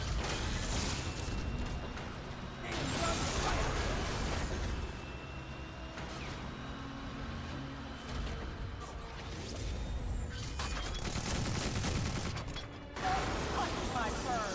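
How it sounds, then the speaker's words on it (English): In the Tiny Metal strategy game, maximum-power machine gun fire erupts in dense rattling bursts alongside mechanical clatter, loud in several waves with short lulls between. "Maximum power machine gun."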